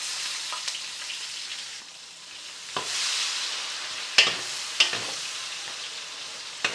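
Garlic sizzling and frying in oil for menudo, a steady bright hiss broken by a few sharp crackles and stirring scrapes, close and alone.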